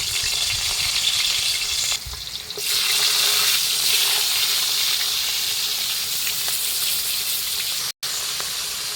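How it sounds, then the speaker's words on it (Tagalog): Loud steady sizzling of dried fish and onions frying in hot oil, a continuous crackling hiss with a brief pause and a short clunk near the end. "Add tayo ng sibuyas ng mantika para sa daing natin. Prito natin lahat."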